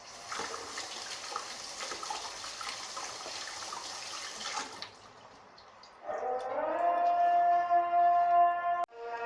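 Tap water runs steadily in a kitchen sink during washing up after cookie baking, a constant hiss that cuts off midway, then a brief quiet and a bright whistling pipe tone.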